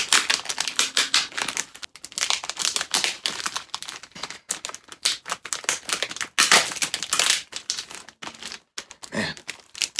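Packing tape being peeled and torn off a shipped comic-book package, a rapid series of close, crackling rips and crinkles with short pauses between pulls.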